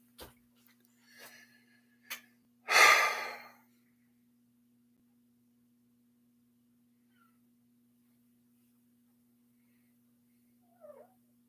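Mostly quiet, then a cat lets out one loud, breathy huff like air escaping, with a few faint small noises before and after.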